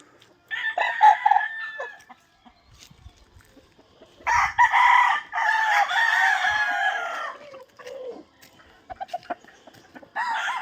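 Rooster crowing at a small backyard chicken farm, a nearby crow followed by a long loud second crow and a third starting at the end, with clucking and faint sounds between.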